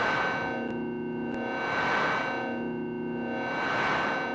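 An Arturia MicroFreak synthesizer patch sustaining on hold, a buzzy, distorted tone that swells and fades in slow sweeping waves with a couple of faint clicks, steady and loud with no voices.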